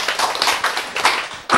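Audience clapping at a church sermon, a sustained burst of applause from a group with a short pause and a final loud flurry at the end.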